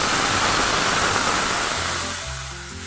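Chilli, onion and garlic tempering is poured over fried fish, giving a loud, hissing sizzle like rushing noise that holds steady and then eases slightly as it settles.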